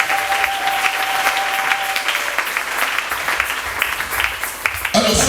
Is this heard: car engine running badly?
no